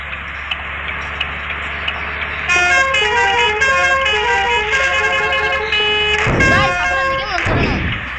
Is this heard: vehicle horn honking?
yes